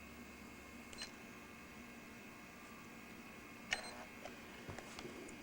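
A vintage JVC GR-SZ9 camcorder starting to record gives a faint mechanical whir with a few small clicks and a short beep-like chirp, quiet and close against a low background hiss.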